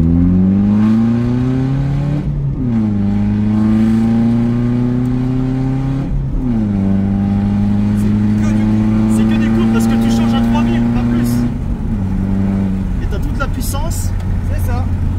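A large BMW 3 Series GT diesel engine revved up several times to about 3000 rpm, each loud rise holding briefly before dropping back to idle, heard up close while people talk over it.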